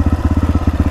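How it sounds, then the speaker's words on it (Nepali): A dirt bike motorcycle runs on a trail ride near Kulekhani toward Mohini Jharna, its engine throbbing in a fast, steady pulse close to the microphone with no other sound. "मैले फेरि मेरो बाइक चलाइरहेछ"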